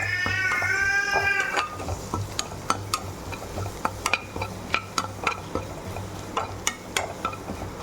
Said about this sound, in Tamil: இதையும் இதோட சேர்த்து வதக்கிக்கலாம்.